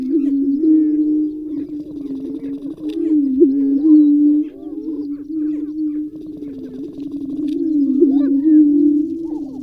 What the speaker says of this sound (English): Here's the greater prairie chicken.